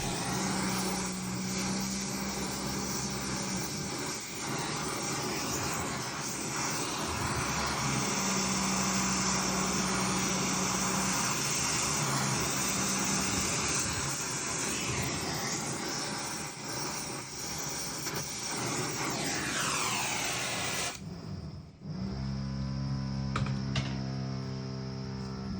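A gas torch set to a moderate flame roars with a steady broadband hiss while brazing copper onto galvanized steel, running continuously for about twenty seconds before shutting off to a quieter room tone.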